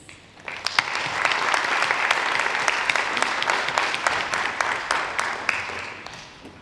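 Audience applause at a high school annual awards assembly congratulating students: steady clapping from a large crowd, swelling quickly and holding fairly even before tapering at the end, with a few sharp individual claps standing out.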